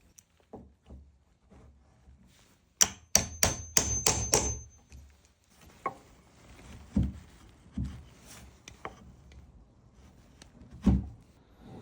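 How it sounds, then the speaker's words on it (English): A Trend corner chisel squares out the corners of a door hinge recess, giving a quick run of sharp, close wooden knocks and strikes, then scattered softer taps and scrapes with pauses between them. "You will need to square out the corners. I use the Trend corner chisel."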